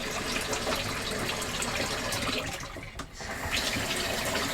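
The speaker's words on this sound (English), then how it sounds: "We have free flowing water." Water gushes steadily from a hose into an RV hookup, a continuous broadband rush with a brief dip midway before the flow resumes at full strength.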